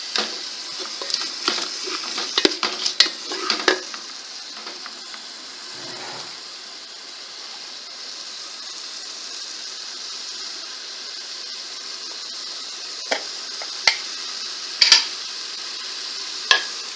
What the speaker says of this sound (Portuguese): Deixa refogar um pouquinho, depois eu coloco as carnes.